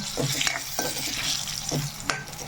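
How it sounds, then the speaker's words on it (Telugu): Tempering spices crackling in a kadai for tomato chutney, a gentle sizzle punctuated by spoon scrapes and light clinks, close and fairly quiet. "చక్కగా వేగుతున్నాయి కాబట్టి మంచి ఫ్లేవర్ వస్తుంది ఇవి అన్నీ బాగా వేగినాయి"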